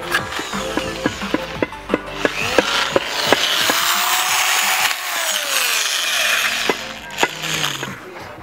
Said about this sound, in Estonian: Nüüd on aeg siis augud puurida